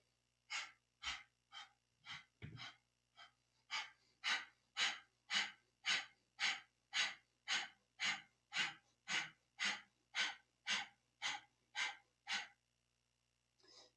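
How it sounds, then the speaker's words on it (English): Rapid rhythmic breath of fire in a Kundalini yoga exercise with legs raised, a long even series of about twenty sharp nasal exhales, close and alone. "let's inhale, raise the legs up, and we'll begin breath of fire"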